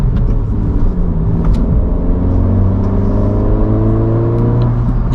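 A 2022 Honda Civic Si with a resonator delete and a small PRL tube accelerates steadily, its exhaust note rising in pitch across the full clip as a loud, close engine drone with no talk.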